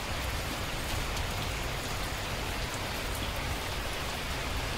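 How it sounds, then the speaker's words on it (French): Steady, dense rain falls in the survival video game The Last Plague: Blight, a continuous even hiss of drops on surfaces with no breaks and no voices. "Il commence à pleuvoir."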